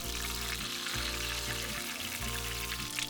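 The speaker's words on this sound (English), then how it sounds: "these buns don't take long to fry at all, just a couple of minutes" Steady, dense sizzling of curry bread buns frying in hot oil, continuous and close, with a low rhythmic hum pulsing underneath.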